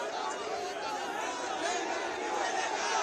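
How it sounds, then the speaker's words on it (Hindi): A large crowd of Jain community protesters at India Gate circle makes a dense, continuous murmur of many overlapping voices, steady and moderately loud. "आज बड़ी संख्या में जैन समाज के लोग विरोध प्रदर्शन करने के लिए यहां पहुंचे"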